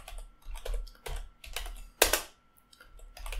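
Touch typing on a computer keyboard produces irregular bursts of crisp key clicks, close and fairly loud, with one sharper, heavier keystroke near the middle and short pauses between runs.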